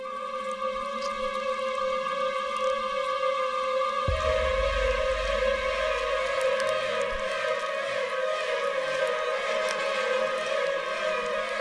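Honeybee princess queens piping inside a hive, sustained tonal humming notes that hold steady and then shift as a deeper low rumble joins partway through, with a dense buzzing background throughout.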